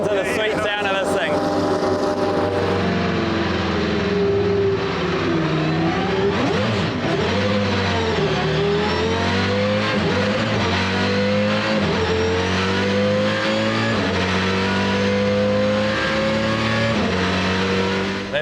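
A Dodge Viper V10 race car at a World Time Attack event revs loudly and continuously, its engine pitch rising and falling through repeated blips, with a faint voice underneath.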